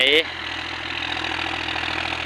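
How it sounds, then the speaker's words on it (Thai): A John Deere 5045D tractor engine idles with a steady low rumble after a brief sharp tone at the start, during ploughing work. "รถไถจอนเดียครับ เป็น 5045D ครับ กับงานไถ"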